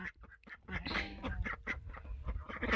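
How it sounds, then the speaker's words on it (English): Farmyard ducks quack in quick repeated bursts, fairly close but not loud, with several calls overlapping in an irregular rhythm over soft background noise. "The ducks look good."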